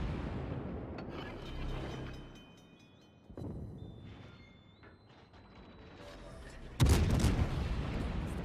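Naval gunfire from World of Warships, a Mikhail Kutuzov cruiser firing on the Mogami, with muffled booms and mechanical clanks, then a sharp loud burst of impact near the end.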